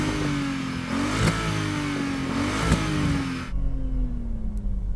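An Audi RS6 engine held at high revs with a steady buzzing drone and small pitch jumps, then abruptly dropping to a low rumbling idle.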